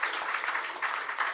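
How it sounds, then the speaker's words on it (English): Audience at a Bollywood research report launch event applauding, a dense steady wash of clapping hands lasting over a second, fairly loud with no voices. "Round of applause."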